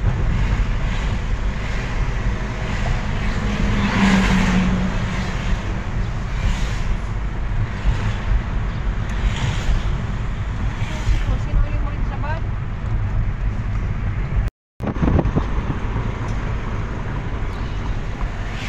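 A car drives along Marcos Highway, the road and wind roar staying loud and steady throughout from inside the moving vehicle, broken only by a brief dropout near the end.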